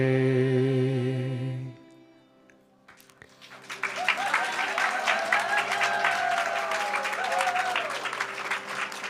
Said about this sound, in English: Let's give a big round of applause for Shri Prahlad Prabhu.